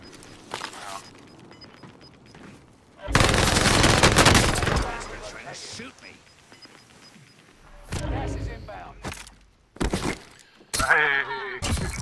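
Submachine gun (PP) fire in a first-person shooter video game, coming as a loud sustained burst of automatic shots followed by shorter bursts, with a voice talking in between.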